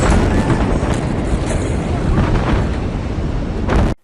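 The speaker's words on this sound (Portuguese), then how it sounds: "Muito provavelmente vocês devem ter visto essa explosão lá em Beirute." An ammonium nitrate explosion in Beirut rumbles as a loud, sustained low roar with crackling bursts, played back continuously until it cuts off abruptly near the end.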